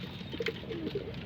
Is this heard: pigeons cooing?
yes